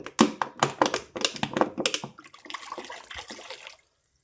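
Water from a clogged washbasin gurgles and drains in a rapid series of pulsing gulps after a squeezed bottle forces pressure, close up, then fades into a smooth trickle and silence.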